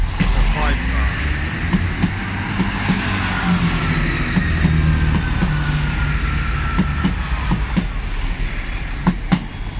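An HST high-speed diesel train pulls out of Gloucester station, a loud, steady rumble of engine and rolling wagons throughout, with occasional sharp clanks and squeals over the continuous drone and a voice talking over it.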